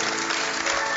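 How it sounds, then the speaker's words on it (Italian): Studio audience on an Italian local TV show applauding a guest, a short burst of steady clapping at moderate level with no one speaking. "Un applauso a Tarabella"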